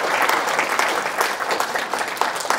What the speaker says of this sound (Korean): 우리 박수 한번 쳐드립시다.